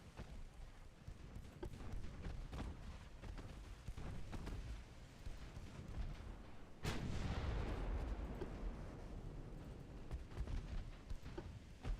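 Warship main guns firing in the naval video game Ultimate Admiral Dreadnoughts, a rumbling barrage of booms with one heavy blast near the middle followed by a long rolling decay, fairly quiet overall.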